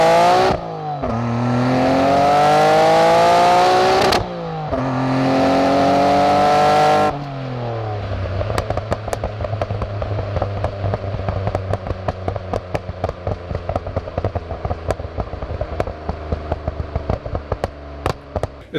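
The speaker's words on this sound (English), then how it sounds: "I was messing around with my anti-lag and deceleration backfires and whatever." A Nissan R32 GT-R revs hard twice with rising engine roars, then idles while its anti-lag system fires a long, rapid string of loud, close backfire pops and crackles.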